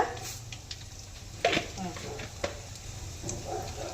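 Chana dal, urad dal and cumin frying in a pan for bitter gourd spice powder, a low sizzle with scattered clicks and scrapes of stirring and a couple of sharper knocks, under quiet talk.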